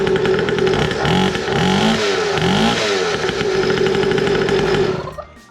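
A dirt bike fitted with a weedwhacker engine runs with its muffler back on, a high buzzing two-stroke drone that revs up and down in a few rising swells before cutting off abruptly at the end.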